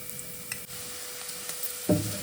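Flattened rice (aval) roasting in ghee in a pan over a low flame, with a soft, steady sizzle and a single knock of a spoon against the pan near the end.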